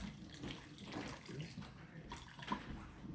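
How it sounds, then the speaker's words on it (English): Two cups of water pour into an Instant Pot during home cooking, a short continuous splashing stream close by with a faint knock; no voices. "2 cups of water."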